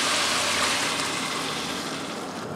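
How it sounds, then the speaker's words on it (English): A cup and a half of water poured into a pot of cooking beans, a steady gushing splash that fades slightly toward the end, close and alone. "a cup and a half of water."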